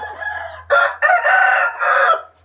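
A Burmese gamecock rooster crows loudly and close, a long drawn-out call rising and breaking into several strained segments, with a faint low hum underneath.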